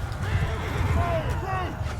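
Horses neigh and whinny amid a Mount & Blade II: Bannerlord custom battle, with horse archers and cavalry, a low rumble of hooves and commotion underneath and talking over it.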